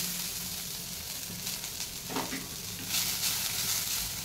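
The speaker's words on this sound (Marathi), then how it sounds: "कांदा भाजून घ्यायचे." Onion roasts in a pan with a soft, constant sizzle up close, broken by a few faint stirring scrapes and no talk.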